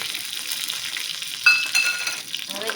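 Cumin seeds, dried red chili and curry leaves crackle and sizzle in hot oil for a Gujarati tempering, a steady close fry with a few louder pops and a brief stir near the end.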